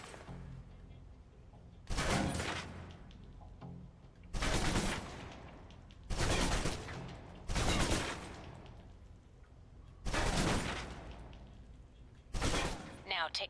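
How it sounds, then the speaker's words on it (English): A submachine gun fires long sustained bursts in the video game Alpha Protocol, with six separate rattling volleys of about a second each, spaced by short pauses. "let's move on to the submachine gun. Now let's empty the clip."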